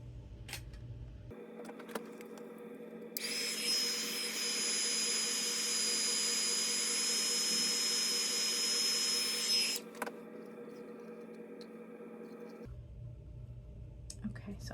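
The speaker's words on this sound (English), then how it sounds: "I'm going to hit it with the heat gun real quick" A handheld heat gun blows steadily for about seven seconds to dry craft ink on designer paper, a loud, even whooshing roar with a faint whine that starts and stops abruptly, with quieter room noise before and after.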